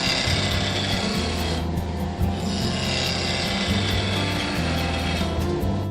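A skew chisel makes a planing cut on a wood lathe, giving a continuous loud whirring hum of the spinning workpiece with a rough cutting hiss over it and a brief dip near the middle.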